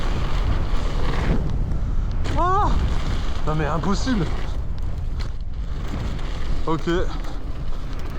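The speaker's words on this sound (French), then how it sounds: "Et là en fait on a le vent de côté." Strong crosswind at a motocross track buffets the microphone in a loud, continuous roar and rumble throughout, with a brief spoken exchange rising above the gusting.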